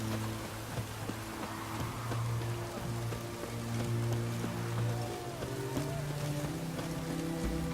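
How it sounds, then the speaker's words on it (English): Rain falls steadily in a video game set around Novigrad and Oxenfurt, a soft continuous hiss of drops on surfaces, faint and even, with low steady tones running underneath and no talking. "And it's raining again."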